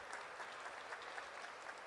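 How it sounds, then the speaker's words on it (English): Audience applause for young performers at a Boston school event, steady dense clapping from a crowd, fairly distant and even. "How about another round of applause for our young performers"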